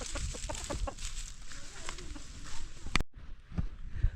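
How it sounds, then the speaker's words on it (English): Chickens clucking close by in a series of short, repeated clucks, with some rustling and handling noise mixed in. "There's some chicken here."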